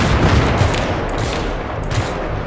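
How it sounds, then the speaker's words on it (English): Sustained gunfire in the video game Battlefield 3, a dense continuous volley of shots from a sniper and other weapons filling the scene loudly, with no speech. "There's a fucking sniper shooting at me."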